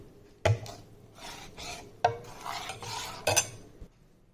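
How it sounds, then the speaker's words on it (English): A spoon stirs buttermilk in a metal pot for dahi kadhi, with three sharp scrapes and clinks against the pot spaced between softer swirling rubs, close and fairly quiet. "Now we will add buttermilk to it. Then we will mix it thoroughly."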